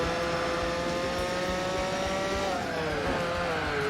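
Road cars racing in the Gran Turismo 4 video game, a loud continuous engine drone with whining revs that shift pitch partway through, with no talk.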